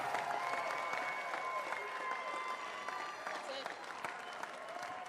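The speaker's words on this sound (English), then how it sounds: "Round of applause for all of the athletes competing in the powerlifting competition of the 2019 Warrior Games." Applause and cheering from the crowd at a military Warrior Games powerlifting competition, steady clapping mixed with crowd voices and a few sustained tones in the arena.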